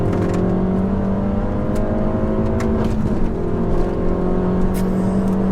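A 300 bhp Stage 2 Peugeot 308 GTi accelerates hard from inside the cabin, with a loud sustained engine drone whose pitch climbs steadily. A short lift follows before it pulls again, and tyre and road noise run underneath.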